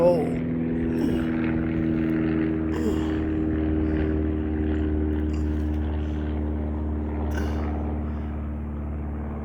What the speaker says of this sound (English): other than that plane that has gone over twice now